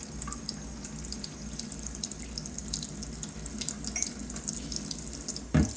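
Warm water runs steadily from a tap to pre-wash a paper Kalita coffee filter, a continuous close hiss and splash for several seconds, ending with a brief louder clunk.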